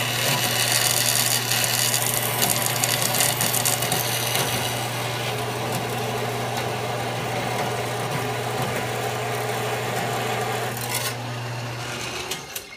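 Saw slicing through very thin aluminum angle stock, a steady loud machine hum with a bright high-pitched cutting whine running continuously for about eleven seconds before tapering off.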